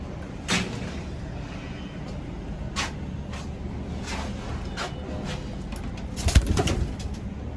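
Soft pigeon coos and occasional wing flutters in a quiet indoor pigeon loft housing old Indian breeds, with a brief louder rustle near the end.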